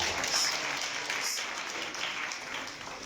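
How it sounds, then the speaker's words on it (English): Audience applause after a speech at a school reading event, a steady broadband wash of many hands clapping at moderate distance, sustained throughout without talk. "Let's give you another round of applause."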